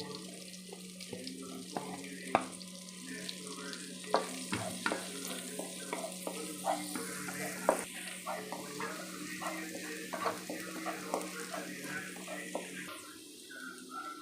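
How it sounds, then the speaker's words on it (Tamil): Ten crushed garlic cloves go into two tablespoons of melted butter for a homemade white sauce pasta, giving a soft steady sizzle under scattered stirring clinks and scrapes in a home kitchen. "இப்போ ஒரு 10 பல்லு பூண்டு நெருக்கி வச்சால அதை போடுறேன்."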